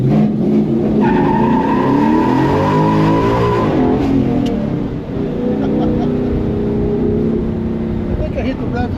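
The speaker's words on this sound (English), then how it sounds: "Pretty sure I hit the rev limiter on that." A Ford Coyote V8 truck accelerates hard on a road, the engine rising steadily in pitch to the rev limiter and holding a loud droning roar, heard from inside the cab.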